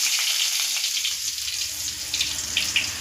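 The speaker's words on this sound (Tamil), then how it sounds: "இப்போ கொஞ்சமாக வெங்காயம் போட்டுக்கலாம்" Onions, including small shallots, drop into hot oil seasoned with fenugreek and fennel for a village-style crab gravy, giving a close, steady crackling sizzle with no talk.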